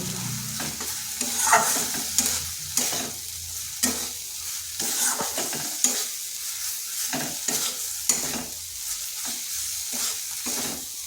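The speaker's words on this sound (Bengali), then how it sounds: "ভেজে রাখা আলুগুলো এই মশলার সাথে কষিয়ে নিচ্ছি" Fried potatoes being stir-fried with spices in a pan for a bitter gourd (karola) dish, with steady scraping stirs and a continuous low sizzle, loud and close, no talking.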